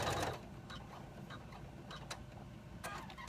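A sewing machine runs a decorative stitch on a fabric key fob pouch, a quiet steady mechanical whir with faint ticking needle strokes and a brief louder burst at the start, with no talking.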